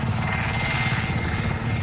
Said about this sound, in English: Bro, the helicopter is damn irritating.